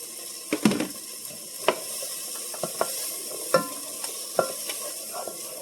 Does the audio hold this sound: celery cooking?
yes